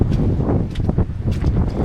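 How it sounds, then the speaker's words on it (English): Strong outdoor wind buffets the microphone in a loud, low, continuous rumble with gusty swells. "It's getting like too windy to film apparently."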